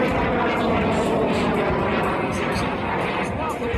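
A jet-assisted WACO biplane with an R985 radial engine performs at an outdoor airshow, its steady, loud engine roar filling the air continuously, with faint crowd noise beneath.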